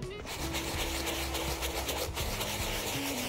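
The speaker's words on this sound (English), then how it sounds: "we're going to use a premium brush, applying the foam directly onto the brush, cleaning and wiping down as we go" A premium brush scrubs cleaning foam into canvas shoe uppers, making a continuous close bristly rubbing that goes on throughout at a steady level, with a faint tonal hum underneath.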